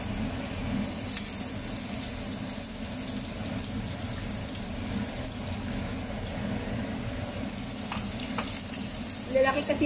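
Onion sizzles steadily in hot cooking oil in a pan while chicken with potato and beans is prepared, a continuous close frying hiss with some stirring and a few clinks near the end.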